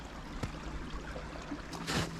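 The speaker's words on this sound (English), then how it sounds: "The brook is flowing." A brook runs on an off-grid wooded property during spring mud season, producing a steady, soft trickling wash of water throughout, with a brief louder splash or gurgle near the end and no voices.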